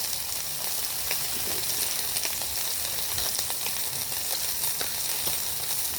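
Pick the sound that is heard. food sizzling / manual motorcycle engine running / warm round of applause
food sizzling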